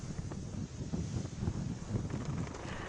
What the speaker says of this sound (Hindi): अभी भी वहां बारिश और तेज हवाएं चल रही हैं।